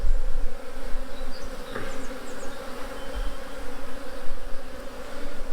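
A honeybee swarm buzzes around a mini plus hive, a dense continuous drone with individual bees zipping past close by, steady and fairly loud with no talk.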